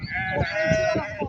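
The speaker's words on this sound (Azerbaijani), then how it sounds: "500 baş sürüdür. Maşallah olsun. İçində quzulu da var." A flock of about 500 sheep with lambs bleats at a sheep market in Barda, with repeated overlapping calls coming close and steady throughout, plus some faint background voices.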